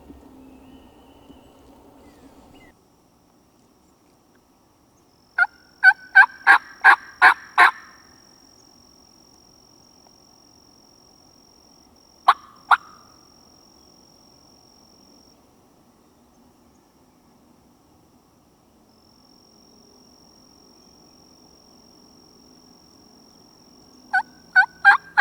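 Wild turkeys gobbling in the Louisiana woods: a rapid burst of gobbles early on, a lone pair of calls midway and another burst at the end, distant and clear against quiet insect hum.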